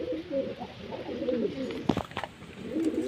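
Pigeons coo in low, rolling, repeated calls close by, joined by a brief burst of rustling or wing flutter partway through.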